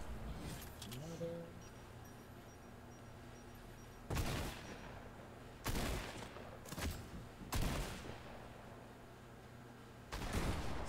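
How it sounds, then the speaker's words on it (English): Gunfire in a video game cracks out in a handful of separate loud bursts spaced irregularly, with a faint background hum between shots and no voice over them. "I'm being shot at!"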